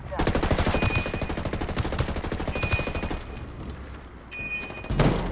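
A long-range sniper rifle firing in the video game Ghost Recon Wildlands sits among rapid, rhythmic gunfire that rattles on for several seconds, then a louder single crack lands near the end.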